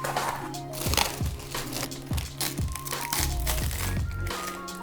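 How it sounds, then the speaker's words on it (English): Packaging being cut and pulled off a Super73-S2 electric bike, with repeated crinkling plastic, sharp snips and rustling handling noises in close irregular bursts, no talking. "we can grab the scissors or the cutters and remove all the packaging before assembly"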